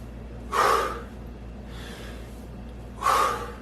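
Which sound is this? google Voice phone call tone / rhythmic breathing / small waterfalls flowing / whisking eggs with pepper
rhythmic breathing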